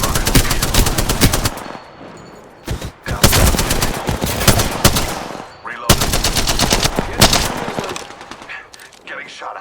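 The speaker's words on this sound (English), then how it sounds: "Fired and they're hitting me." Rapid automatic gunfire and bursts of shots from a video game firefight, loud and close, in several long volleys separated by short pauses, with faint voices now and then.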